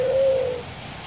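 A spotted dove gives one clear, smooth coo close by, which trails off after about half a second into quiet background.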